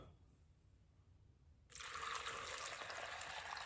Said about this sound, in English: And to my blender cup, I'm going to go ahead and add water.